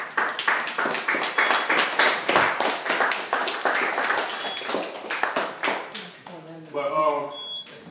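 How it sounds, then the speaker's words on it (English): A classroom of students gives a round of applause, with dense, fast clapping close by that thins out toward the end, with voices mixed in. "So I think he deserves a round of applause, y'all."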